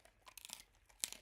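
A dog crunches a chew stick up close, giving a short burst of crisp crackling and crunching bites, faint and irregular, with one sharper crunch near the end.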